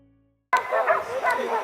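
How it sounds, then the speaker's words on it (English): Hunting dogs bark during a wild boar hunt in the mountains, a sudden close burst of yelping, whining barks after a brief quiet start. "The barking of the hunting dogs grew louder, echoing through the mountains"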